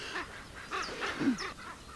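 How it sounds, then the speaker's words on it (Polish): An agitated drake duck calls loudly out on the water, giving a few harsh, honking bursts spread over two seconds, fairly close. "To kaczor strasznie wykrzykuje."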